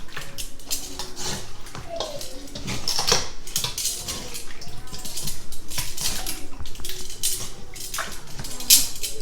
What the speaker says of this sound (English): my chicken is ready. I am frying the chicken for them.